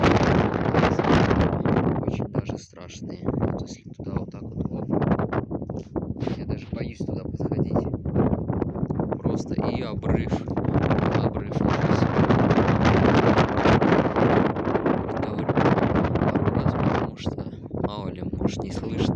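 Very strong wind at Anapa on the Black Sea coast buffeting the microphone in loud, gusty roaring blasts, continuous throughout with brief lulls.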